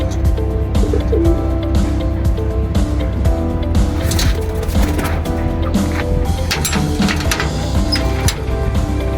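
Pigeons, mostly females, coo continuously in a flying loft. The soft, repetitive calls overlap loudly and up close over a steady low hum, with occasional rustles and wing flutters.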